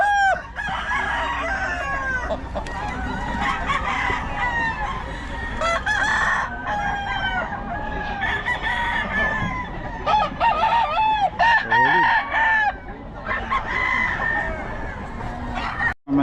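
Roosters crow again and again at a Filipino farm, their calls overlapping with lots of clucking from nearby fowl. The scene is busy and close, with faint background voices.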